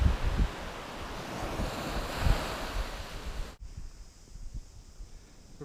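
Ocean surf washing onto a beach, broad rolling wash with wind across the microphone, steady and close, then abruptly quieter after a cut toward the end.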